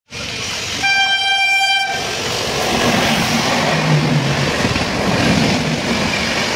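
The 15639 Puri Kamakhya Express passes close by, a loud train horn blast sounding for about a second before the steady roaring rumble of rolling wheels and carriages continues.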